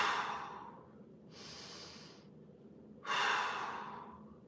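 Deep breathing during a hamstring stretch in a mobility workout: three slow, close breaths, each a soft airy rush lasting about a second, with brief quiet gaps between them and no talking.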